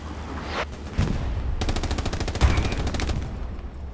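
Gunfire from the WWII shooter Hell Let Loose during a large competitive match: a single shot, then a rapid automatic burst of evenly spaced cracks, loud and close, trailing off at the end.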